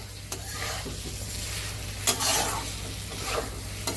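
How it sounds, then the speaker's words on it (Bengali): Eggplant is sautéed in a pan with taro for a Bengali-style hilsa fish curry, giving a steady sizzle close by. A few sharp utensil scrapes and knocks mark the stirring, and no one talks. "2 মিনিটের মতন কষিয়ে নিচ্ছি।"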